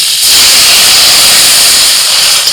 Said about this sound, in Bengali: তেলের মধ্যে আমটা একটু নাড়াচাড়া করে নিই এবার জল দিয়ে দিচ্ছি